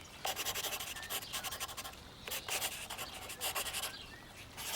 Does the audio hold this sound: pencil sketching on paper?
yes